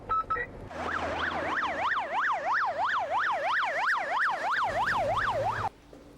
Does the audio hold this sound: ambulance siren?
yes